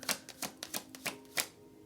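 Tarot cards shuffled by hand in quick irregular riffles, a string of crisp papery flicks and taps, close and fairly quiet, with no voices.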